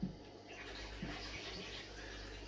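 Water splashes and pours back into a home fish tank during a water change, a brief close rush of running water.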